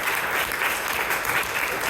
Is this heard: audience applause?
yes